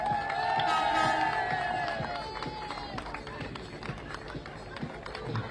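A crowd at a truck-racing prize ceremony at Donington Park cheers and whoops loudly at first, then settles into scattered clapping and chatter.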